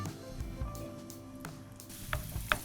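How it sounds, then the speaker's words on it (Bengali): Chopped onions frying in oil, a quiet steady sizzle with a few soft stirring scrapes and small pops, close and faint, no talking. "এই যে আমরা পেঁয়াজ কুচিটা দিয়ে দিই"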